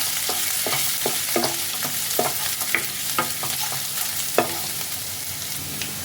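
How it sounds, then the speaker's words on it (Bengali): Chopped ginger and garlic sizzle steadily in a pan while a spatula stirs through them in repeated scraping strokes, close and moderately loud. "আদা রসুন কুচিটা ফ্রাই হয়ে গেছে।"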